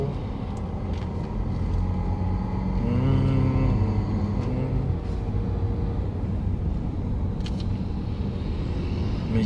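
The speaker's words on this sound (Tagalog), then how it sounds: "Medyo traffic." Steady road traffic rumble heard from inside a moving car on the way home, a continuous low drone with no talking.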